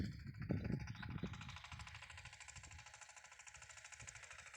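A power tiller engine runs steadily in a field during onion seedling planting, its rapid knocking chug loud and close, louder at the start and then settling into an even, pulsing rhythm.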